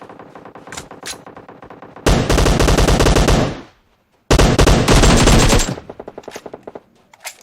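Two long bursts of loud, rapid automatic gunfire in PUBG Mobile, separated by a brief pause, with softer scattered shots and game sounds before and after.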